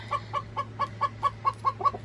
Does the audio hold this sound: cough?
no